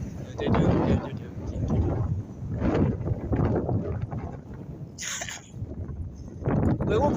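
Strong wind gusts roar steadily across an outdoor microphone at the Blackpool Illuminations on a windy night, a loud, rumbling buffeting that swells and dips throughout.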